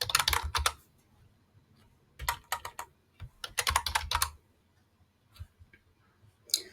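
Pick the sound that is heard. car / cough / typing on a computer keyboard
typing on a computer keyboard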